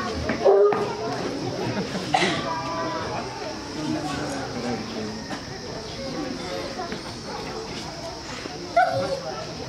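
Police dogs at a training school in Kathmandu, Nepal, yip and bark in short bursts against a busy outdoor background, with louder yelps near the start and end and voices of people and children around.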